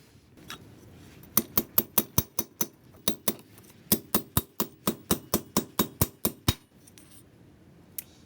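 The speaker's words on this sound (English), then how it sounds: "I think we'll drive these pins in, and if nothing else, they'll stay straight while we weld them." Metal pins being hammered into a bending wrench before welding: about twenty sharp, ringing metallic blows in quick, steady runs, close and loud, with brief pauses between groups.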